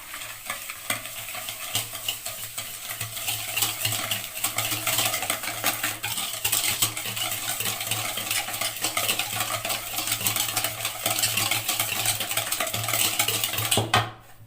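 Eggs, vanilla and sugar are mixed by hand in a bowl, a steady close scraping and swishing with faint clinks of the utensil against the sides, running continuously before stopping abruptly at the end.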